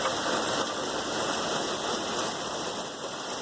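Rain falling steadily on a hilltop in the East Hills area of Binghamton, New York, an even wash of droplets without breaks, moderately loud and close.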